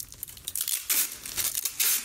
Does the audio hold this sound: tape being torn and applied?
yes